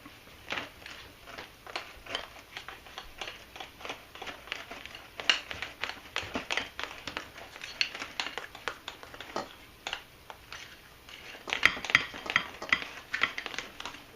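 Kool-Aid cupcake batter gets stirred in a bowl, a quiet run of irregular scraping, tapping and wet clicking strokes that grows busier and louder toward the end.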